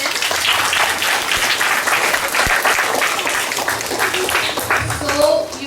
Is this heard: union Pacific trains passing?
no